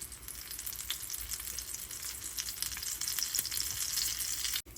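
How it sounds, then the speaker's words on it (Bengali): Mughlai paratha frying in hot oil, giving a continuous close crackling sizzle with a brief cut-off near the end. "সাইডগুলো সুন্দরভাবে ফ্রাই হয়ে যাবে"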